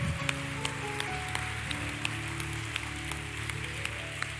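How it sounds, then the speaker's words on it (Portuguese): A church congregation applauds during a sermon, a faint, steady wash of clapping with occasional sharper claps over a low hum, no talking. "Isso aí, aplauda."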